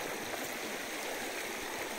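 Creek water runs steadily through a sluice box set in a blocked-off creek in the northern United States, a continuous close rushing wash with no voices.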